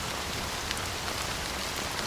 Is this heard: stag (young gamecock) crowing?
no